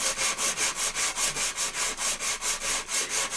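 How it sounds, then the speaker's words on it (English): Rhythmic back-and-forth sanding of resin with sandpaper, a steady scratchy rasp repeating about four times a second, close and even. "Now, just going to show you how I sand it off."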